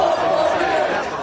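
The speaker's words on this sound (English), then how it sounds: "the president drove through a crowd from across the country who came to the nation's capital to show their support" Large crowd of Trump supporters gathered at a rally in Washington, D.C., a dense steady murmur of many voices and chatter filling the space, with no single sound standing out.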